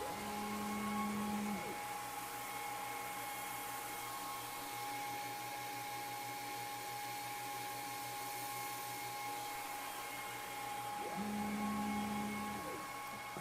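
A Creality Falcon Pro laser cuts through 12.5 mm thick paloma wood, a faint steady hum with high tonal whine, while the gantry motor buzzes in short bursts at the start and end of the pass.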